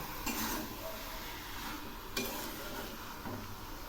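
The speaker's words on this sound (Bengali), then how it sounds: "কাঁঠালগুলো আরও কিছুক্ষণ কষাবো।" Young green jackfruit pieces sautéed in a pan give a soft, continuous sizzling hiss, with a couple of faint stirring scrapes and no speech.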